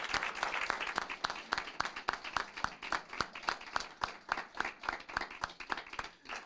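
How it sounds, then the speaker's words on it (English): A council-meeting audience applauds as an honoree is called up to the microphone: steady, moderately sized clapping with individual hand claps distinct throughout, no talking. "And if we can give him a big round of applause as he comes up,"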